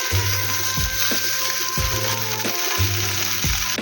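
Fish frying in a pan, a loud continuous sizzle under a few rhythmic scraping strokes and low knocks as it is gently turned, close-up and with no voices.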